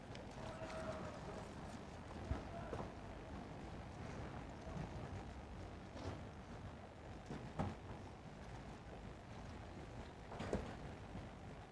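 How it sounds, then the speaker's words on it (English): Horses pull the Queen's phaeton carriage onto Horse Guards Parade at Trooping the Colour 2003: faint, distant clip-clop of hooves in a steady walking rhythm against a low crowd and outdoor murmur, with occasional sharper knocks. "as the Queen's phaeton turns into Horse Guards Parade, her head coachman, Colin Henderson, will salute the colour"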